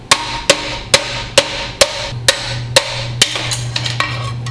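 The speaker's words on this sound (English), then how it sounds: "So I'll take that seal out." A seal is driven out of a Dana 20 transfer case with about nine sharp metallic taps at a steady, even pace, close up over a low background hum.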